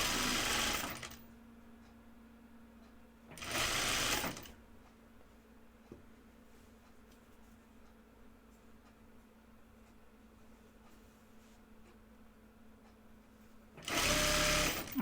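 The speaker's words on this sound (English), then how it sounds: "And now I'm going to do French seams for this as well." A sewing machine runs French seams on a Madison cardigan in three short, close bursts of steady whirring, with near-silent pauses between them.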